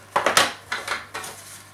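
Plastic media baskets from a Tetratec EX 1200 canister filter click and knock together in a quick run of light taps, close and fairly crisp with no one speaking.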